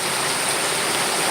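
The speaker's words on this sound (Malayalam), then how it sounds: "എന്താ മഴ നോക്ക്" Heavy rain pours down in a steady, dense hiss with no breaks, loud and close throughout the short stretch.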